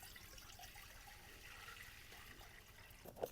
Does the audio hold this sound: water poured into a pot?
yes